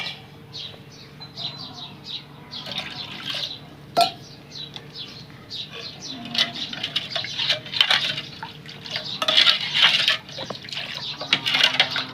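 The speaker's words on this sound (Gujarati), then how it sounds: "હજી આપણે આમાં હાદું પાણી નાખશું" Plain water is poured into a vessel of spiced pani puri water, making a continuous splashing, trickling stream that swells and wavers for several seconds, close and fairly loud.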